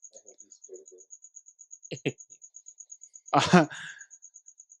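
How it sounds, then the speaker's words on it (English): Crickets chirp in a fast, steady high pulse that runs throughout a quiet night scene, loud and continuous, while a few short voice sounds and a burst of talking break in near the end. "The crickets was hella loud."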